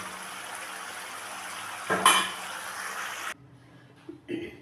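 A pan of fish cooked with radhuni paste is lifted off the stove. Steady frying hiss under a brief scrape and clatter of metal, then the sizzle cuts out and a few soft knocks follow.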